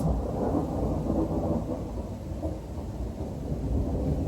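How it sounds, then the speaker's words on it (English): A deep, sustained rumble of thunder rolls on steadily for several seconds, broad and heavy with a rain-like wash over it and no voices present. "Thunder."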